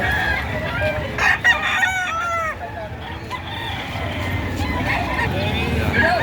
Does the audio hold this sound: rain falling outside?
no